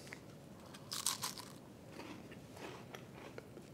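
Crisp, airy Christmas cookie being bitten and chewed close up, one sharp crunch followed by a few softer chewing crackles, quiet and without talk.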